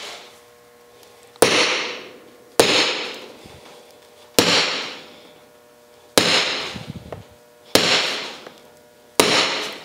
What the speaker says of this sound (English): You don't want to drive your punch through the table, just enough to leave a little divot.